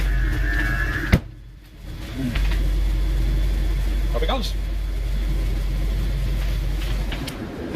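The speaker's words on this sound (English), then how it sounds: "The car's idling." A 2007 Range Rover idles with a steady low rumble throughout, the engine briefly dropping out near the start before resuming; a person speaks close by, and a door or hatch thud is heard.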